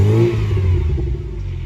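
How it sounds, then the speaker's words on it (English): A 1987 Volkswagen Golf GTI MK2 with an aftermarket exhaust starts and revs, a loud, close, steady engine rumble with a rising rev near the start, recorded from inside the car. "I guess I'll start it for you too while we're in the car here so you can hear it."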